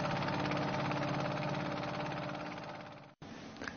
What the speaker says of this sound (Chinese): 也许正是渔船轰鸣的马达声